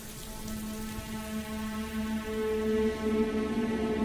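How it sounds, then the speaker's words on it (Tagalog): Rain falls steadily and softly, a faint continuous patter beneath a low sustained tone that grows slightly louder toward the end. "Hindi pa ba hihinto tong ulan na to?"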